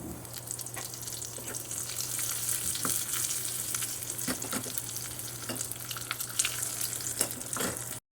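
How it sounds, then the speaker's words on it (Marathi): Cumin seeds and curry leaves crackle in a spoonful of hot ghee in a small tempering pan, a steady close sizzle with scattered pops and stirring, no voices. "हे जिरे त्यात घालते फोडणीसाठी कढीपत्ता घालते"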